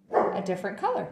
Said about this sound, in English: You can hear him in the background. I think he's barking at someone.